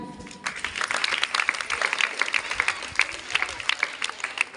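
Clapping from a group of lecturers standing at a Teachers' Day function, a dense steady patter of many hands that starts abruptly and carries on at a fairly even level without a break.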